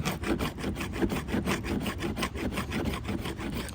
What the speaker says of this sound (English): This little thing, the rasp, will save you hours.